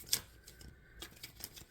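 Quick papery riffles and soft taps of tarot cards being shuffled, a brief burst followed by lighter scattered flicks, close and fairly quiet.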